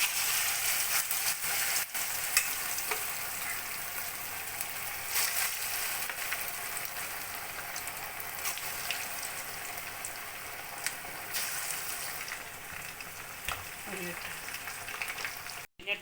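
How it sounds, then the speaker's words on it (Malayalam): Marinated chicken 65 pieces fry in oil with a soft, even sizzle like light rain, steady and fairly quiet, with a few sharp knocks near the end. "അത് കഴിഞ്ഞ് വാരിയിട്ട് പൊരിക്കാം"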